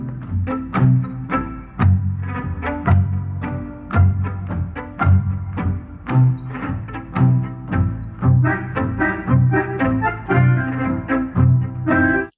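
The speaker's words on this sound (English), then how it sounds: "in the beginning, it's very clear because it's the contrabass, so almost only." Contrabass plays a tango with a biting, accented articulation, a steady pulse of sharp plucked-bowed strikes on low notes, close and alone with little else around it.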